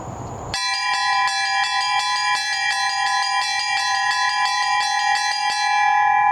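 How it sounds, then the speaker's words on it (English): Russian-style church bells ring together in a steady, loud, regular pattern of bright repeated strikes, with all the bells sounding at once and sustained tones ringing on between the hits. "This way all the bells are participating."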